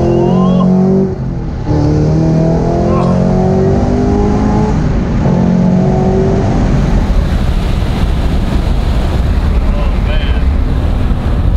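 A GM sports car on its stock exhaust accelerates hard, its muffled engine note climbing through the revs and briefly dropping between gears, heard from inside over heavy wind buffeting.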